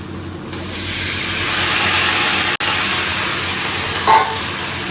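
Cabbage frying with spices in a hot pan gives a loud, steady sizzling hiss throughout, broken by one sharp momentary dropout midway, with no voices.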